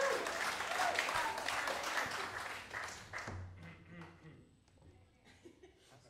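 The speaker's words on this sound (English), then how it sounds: "You gotta clap for him to get him to say something." An audience at a jazz performance applauds loudly and steadily, then the clapping thins out and fades as scattered laughter and a voice come through.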